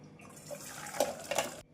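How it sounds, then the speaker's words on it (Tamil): Water drained off boiled cauliflower splashes and trickles steadily for under two seconds, with a couple of brighter gushes near the end before it stops abruptly. "தண்ணீரை வடித்து எடுத்து விடலாம்."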